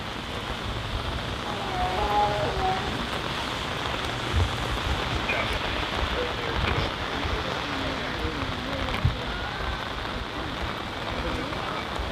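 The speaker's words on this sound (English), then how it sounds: "looked like it was going to rain all day anyway. It is." Steady outdoor rain falls throughout as a continuous dense hiss with occasional louder drips and a low rumble, with faint voices murmuring underneath.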